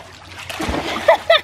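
A Husky dog makes a quick splash dropping into a swimming pool, followed by a couple of sloshes, with a voice talking over it.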